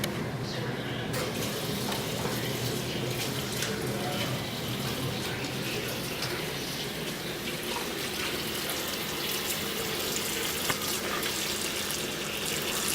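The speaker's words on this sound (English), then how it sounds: "Let me wash my hands first." A steady rush of tap water splashes into a sink during handwashing, continuous and close, with faint talking beneath the running stream.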